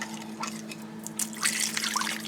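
Liquid pours and trickles over a pot roast in a crock pot, a quiet steady splashing with faint drips and no talking.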